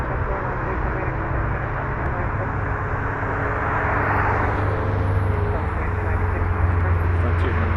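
A Frontier airliner on the runway at Las Vegas Harry Reid International Airport gives off a steady, loud jet roar that builds slightly, with a person talking over it.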